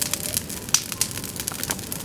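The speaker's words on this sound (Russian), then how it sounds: "Это огонь." A campfire lit with gasoline burns in the open, giving off a dense stream of sharp pops and snaps over a steady rushing bed of flame. It sounds close and fairly loud, and no one speaks.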